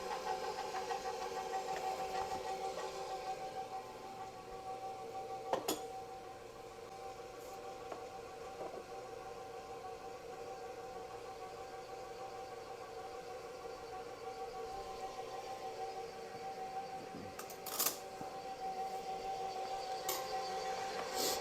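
An electric mixer runs on slow speed through honey bun cake batter with sour cream, a steady faint motor hum for the whole stretch with a couple of brief clunks.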